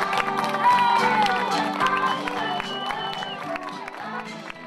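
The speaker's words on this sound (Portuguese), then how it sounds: "Uma salva de palmas à da última saída." Audience clapping and cheering at a festival march during the Festas de S. Martinho in Guifões, a moderate, scattered applause with whoops, mixed with music tones and voices, gradually thinning out.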